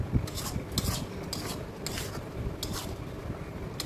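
A spoon scrapes and clinks steadily around a pan as ground coconut paste and milk are stirred together, a busy close-up rhythm of light metallic scraping and taps with no talking.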